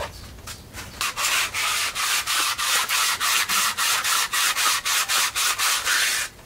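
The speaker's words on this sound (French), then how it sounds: "Je prends du papier à poncer, de l'huile, et je ponce très vite fait les cams" Camshaft cams are sanded by hand with oiled sandpaper in quick, steady back-and-forth strokes, about three per second, each a close, even scratchy rasp, with no talking.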